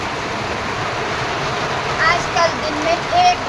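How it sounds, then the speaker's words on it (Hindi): Heavy monsoon rain pours outside a home kitchen as a steady, dense hiss, with a voice speaking briefly over it. "बाहर की मोटी बारिश लग रही है"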